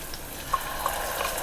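Onions frying in a pan for mint rice, making a soft, steady sizzle with faint crackles.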